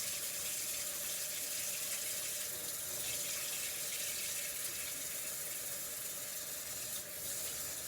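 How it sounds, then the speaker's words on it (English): Running tap water splashes steadily over hands being washed with soap at a kitchen sink, a continuous broadband hiss at a low, even level with faint rubbing and no talk. "I'm going to wash my hands"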